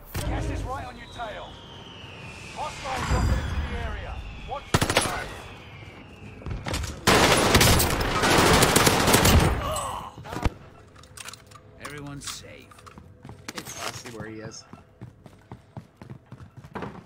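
Video game firefight with sniping, clusters of sharp gunshot bursts and loud rattling volleys rising and falling over seventeen seconds, with a player talking over parts of it.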